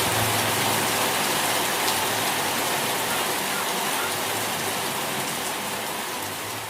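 Heavy rain pours down in a dense, constant hiss that stays steady throughout.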